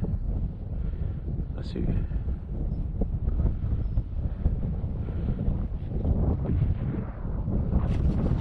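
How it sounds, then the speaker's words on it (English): Gusty wind roars and buffets across the microphone during a landing, a loud, rough, fluctuating rumble throughout, with someone speaking briefly over it. "I'll take that in this gusty wind."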